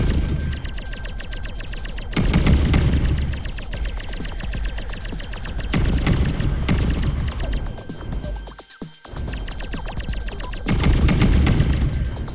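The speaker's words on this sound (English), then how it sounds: "I like the sounds of the explosions." Continuous rapid gunfire rattles with booming explosions swelling in waves in the video game Asteroids Millennium, dense and loud throughout, like a chaotic battle.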